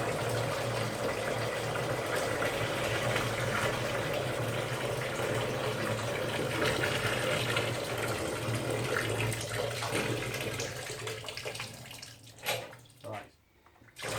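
Five litres of water pour steadily into a container for a glue test, a continuous rushing hiss that runs for about twelve seconds before tapering off into a few brief knocks.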